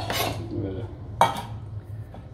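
Metal utensils scrape and clink against a bowl while a tuna tataki marinade is stirred, with a single sharp clink standing out among softer swirling sounds.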